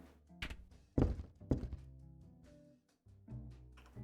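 In the Tank Mechanic Simulator video game, a fuel tank cap that won't open gives several heavy metallic thunks and clunks, close and loud, separated by short pauses.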